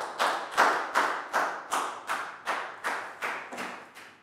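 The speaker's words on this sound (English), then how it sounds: "Big round of applause" A school class claps for a student in a steady, rhythmic unison, about ten evenly spaced loud claps in a row with no talking.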